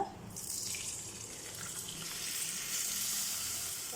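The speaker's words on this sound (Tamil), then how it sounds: "இந்த மாதிரி கோல்டன் ப்ரௌனாக ஃப்ரை ஆனதும் பால் ஊற்றிக்கிங்க" Milk poured into a hot pan over golden-fried ingredients for payasam, a rising hiss and bubbling sizzle that builds and holds steady, without voices.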